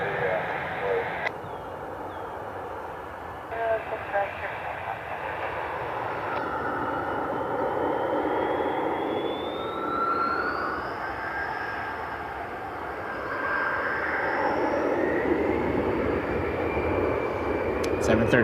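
Delta Boeing 737 airliner taxiing at Cleveland Hopkins airport on a smoky evening, a continuous distant jet engine whine and rumble with rising turbine tones, steady and moderately loud throughout, no talking.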